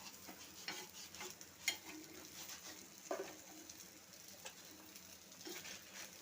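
Vadis fry in oil in a pan, giving a faint, steady sizzle. They are stirred and turned with a few soft scraping knocks, and there is no talk.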